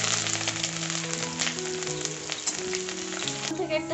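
Bay leaves, dried chillies, five-spice seeds and grated ginger are dropped into hot oil in a kadai, setting off a steady, close sizzle that carries on without pause.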